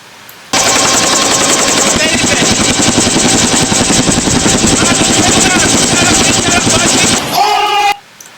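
A helicopter flying over Tehran produces a loud, continuous rapid rotor chop, a dense steady thumping that starts abruptly, holds for several seconds, then cuts off.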